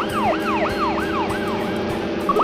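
Toy fire truck siren, a continuous rapidly rising-and-falling electronic wail repeating in quick cycles, loud and close, with a low rumbling noise underneath.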